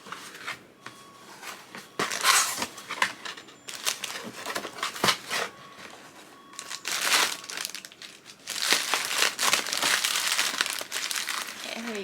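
Packaging for a Gucci Horsebit 1955 bucket bag crinkles and rustles as it is opened, in close, uneven bursts of crumpling paper and plastic that grow denser toward the end.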